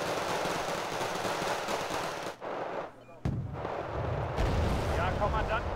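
Automatic gunfire, heavy weapons and explosive bursts pound steadily in a war strategy game as units are shot up, briefly dropping away before a sharp blast brings the dense, loud firing back.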